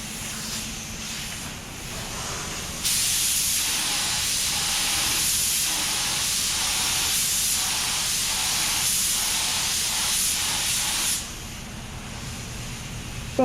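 Spray gun laying base coat on a car door in a bodyshop, a loud steady hiss that starts abruptly, runs for about eight seconds with faint pulsing passes, then cuts off.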